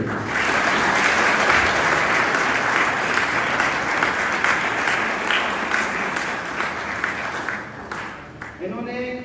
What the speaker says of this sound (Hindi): आज एक बार तालियां हो जाए सर।